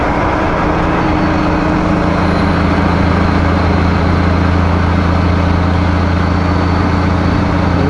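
A loud truck engine hums in a constant low drone with steady harmonic tones as the driver searches for a missed gear on a highway drive near Grand Forks and Greenwood, BC.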